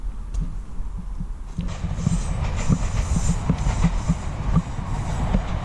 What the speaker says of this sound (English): Excuse the train going past there.